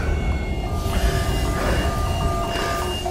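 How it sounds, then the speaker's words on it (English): Train crash underwater in the SOMA video game: a loud sustained rumbling, rattling clatter with high metallic screeching tones running through it and bursts of grinding noise. "I was in a train crash underwater!"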